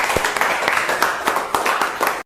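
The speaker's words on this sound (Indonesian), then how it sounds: "Tepuk tangan untuk kita semuanya." Students in an Islamic studies classroom applaud together, giving steady, fairly close, overlapping claps with a rhythmic pulse that runs throughout, then cuts off abruptly near the end.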